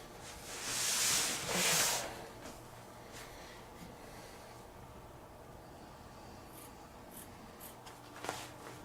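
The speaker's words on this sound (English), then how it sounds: "now I just need a pair of scissors and cut them out" Cheap little scissors cut out paper patterns for a kettle grill chair project, giving two crisp, close snips near the start, followed by quiet with a few faint rustles.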